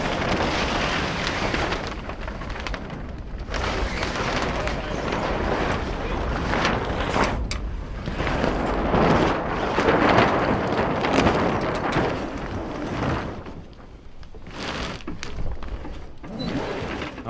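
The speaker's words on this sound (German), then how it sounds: "weil es schon im Hafen zu stark weht" Strong wind buffets the microphone in a sailmaker's harbour, a steady loud rushing roar with gusts and brief lulls, and voices are heard faintly under it.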